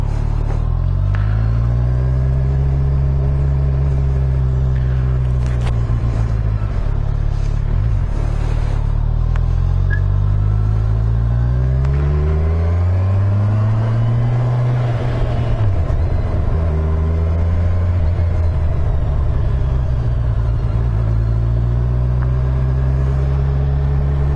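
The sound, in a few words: 2017 Kawasaki Z1000SX motorcycle engine on the road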